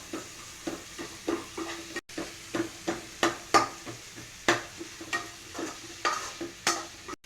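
Onion and garlic frying in a pan, with a utensil stirring in regular scraping strokes roughly every half second over a soft, steady sizzle, close and moderately loud, with no talking.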